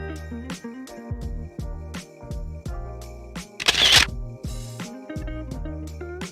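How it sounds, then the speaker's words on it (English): A brief camera shutter click lands once midway, mixed subtly into music with plucked notes and beats playing throughout. "I add a camera shutter sound to match the shot of the photo."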